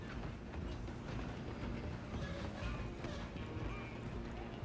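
A steam train runs in Red Dead Redemption 2, a steady dense rumble and rattle of wheels on track with rhythmic clatter, loud and continuous throughout without speech.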